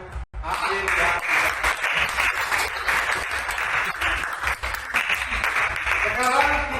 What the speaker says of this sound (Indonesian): mari kita sama-sama memberikan aplaus untuk hasil yang